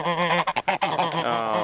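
Backyard geese honking close by, a loud run of harsh repeated honks in quick succession followed by a longer drawn-out call.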